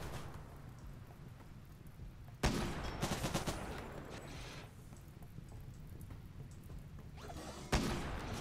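Gunfire in RimWorld comes as two sharp bursts of rapid shots several seconds apart, loud against a quiet hiss much like rain that fills the pauses between them.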